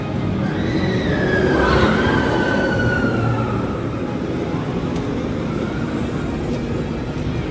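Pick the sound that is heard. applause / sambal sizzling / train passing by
train passing by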